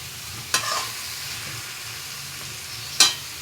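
Spice paste for an egg and bottle gourd curry fries in a pan with a steady low sizzle, broken by two sharp scraping stirs.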